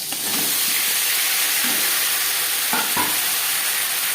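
Eggplant hits oil already used to fry fish, with nigella seeds, for a Bengali hilsa curry with mustard, sending up a loud continuous sizzle marked by a few sharper bursts and spatters, close by with no voices.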